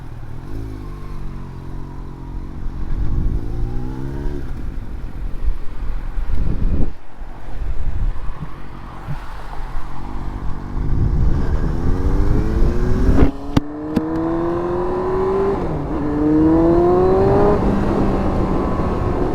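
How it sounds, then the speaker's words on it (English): A Yamaha R1 motorcycle accelerating on a highway, its engine note climbing through repeated rising sweeps with gear changes, loud and close over steady wind rush. "let's go for a quick little highway burst just to wring this thing out a little bit"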